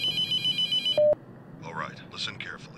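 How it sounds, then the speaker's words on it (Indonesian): A telephone rings in the horror video game The Mortuary Assistant, a rapid electronic trill in short pulses that cuts off after about a second, followed by a brief tone and then voices talking. "Nah, telepon tuh"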